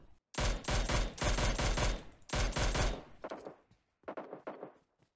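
Bursts of automatic gunfire in the battle royale game PUBG Mobile on the Erangel map: three loud rapid volleys back to back, then quieter, more distant shot bursts trailing off.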